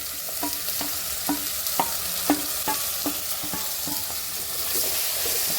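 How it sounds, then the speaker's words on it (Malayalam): Tomatoes being stirred into a prawn curry in a pan, a spoon scraping in repeated strokes over a steady low sizzle, with no talking. "നല്ലപോലെ ഇങ്ങനെ ഇളക്കി നല്ല മിക്സ് ചെയ്ത് കൊടുക്കാം."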